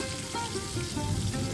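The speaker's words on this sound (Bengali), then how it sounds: "এখন আমি পটলগুলোকে উল্টে পাল্টে ভালো করে ভেজে নেব।" Pointed gourd (patol) slices frying in oil in a kadai, a steady close sizzle with faint crackling and soft stirring throughout, no voices.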